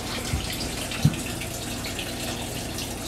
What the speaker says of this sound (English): starting to fill the aquarium.